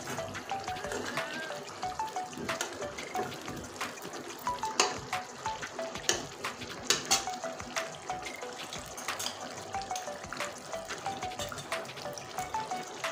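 Bay leaf and a dried red chili fry in a small amount of hot oil, a steady crackling sizzle with sharp pops scattered throughout.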